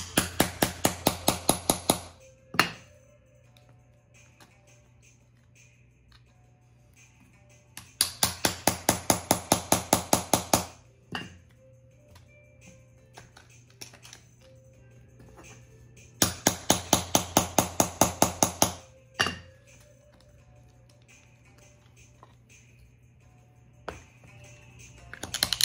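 Bursts of rapid, sharp hammer blows on a chisel chip into a bowling ball, three loud clusters of quick strikes close up, each followed by a single heavier knock and quiet gaps between.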